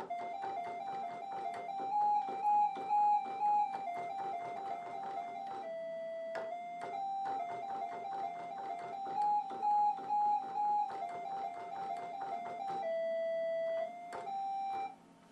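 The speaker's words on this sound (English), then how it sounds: "Now I'm going to go in and add, I guess, a couple of synthesizer sounds." A synthesizer sequence in a club track repeats a bright, bell-like melodic pattern over a steady pulse, loud and even, looping twice with a sustained held note near the end and no talking.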